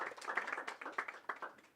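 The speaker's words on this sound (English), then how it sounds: "Let's give a clap once more." A conference audience gives a short, faint round of applause at a robotics forum, scattered claps blending into a soft patter for under two seconds.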